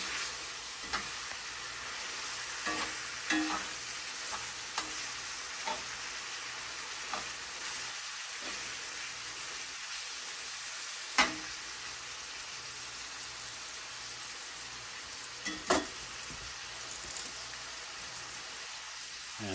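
Grilled zucchini chili being stirred in a hot pan, giving a steady sizzle with scattered crackles and occasional sharper scrapes of the spoon, close and unbroken, with no talking.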